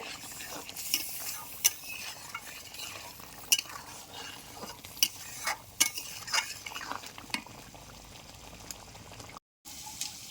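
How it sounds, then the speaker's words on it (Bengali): A vegetarian 'egg' curry with turmeric bubbles and sizzles in a pan, a steady soft hiss broken by sharp scrapes and taps of a stirring utensil, with no voices. "এ দেখুন তরকারিটা আমার কি সুন্দর ফুটছে।"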